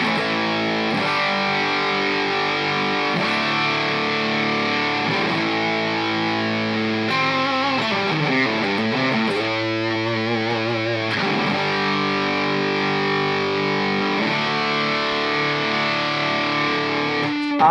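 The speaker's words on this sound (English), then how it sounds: "Absolute wads of distortion there." Heavily distorted electric guitar through a Wampler SLOstortion pedal with gain cranked to 3 o'clock plays continuously, thick sustained chords and riffs with a dense, saturated crunch throughout.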